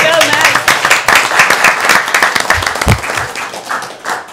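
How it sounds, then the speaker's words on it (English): An audience claps steadily for a high-school student with a 4.0 GPA, a dense burst of applause that gradually thins out over a few seconds. "Do we ever applaud him?"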